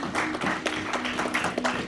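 A church congregation claps in quick rhythmic bursts during a sermon by Pasteur Bienvenu Kiele, with a sustained tone underneath suggesting music playing along.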